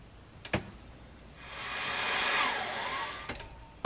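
A heat gun heat-sets airbrushed paint on a Whopper Plopper fishing lure, a close, steady whooshing blower that swells in the middle of the clip, with a couple of sharp clicks at either end.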